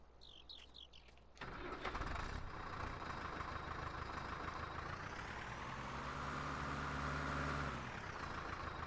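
A tractor engine in Farm Simulator 19 starts up after a few faint chirps, then runs with a steady, loud diesel drone. Its pitch rises as it revs partway through and then settles, with no talking over it.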